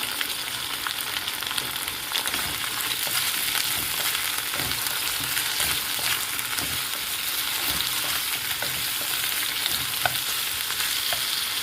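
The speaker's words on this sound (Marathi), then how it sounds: "फ्लावर बरोबर तेलामध्ये छान भाजून घ्यायचं आपण" Cauliflower florets and potatoes fry in oil with a dense, steady sizzle and irregular scrapes of stirring, close and continuous without talk.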